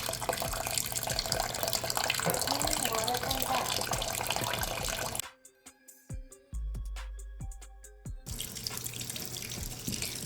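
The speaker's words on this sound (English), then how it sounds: "you want to rinse your potatoes at least 2 or 3 times till the water is clear" Tap water runs steadily into a sink as cut potatoes are rinsed, broken by a brief pause with drips and splashes before the loud flow resumes.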